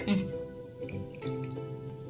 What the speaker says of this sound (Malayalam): കുറച്ചുകൂടി വെള്ളം ചേർക്കാം